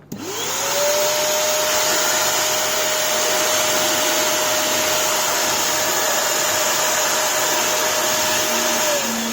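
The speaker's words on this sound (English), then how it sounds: "This is my vacuum cleaner that I use to clean up my stuff." A small vinyl record cleaning vacuum motor whirs up quickly to a steady, loud whine and runs continuously, with a slight change in pitch near the end.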